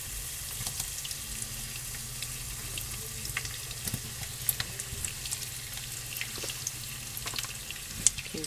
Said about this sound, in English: So just add your potatoes. Fry these until they're however you like them.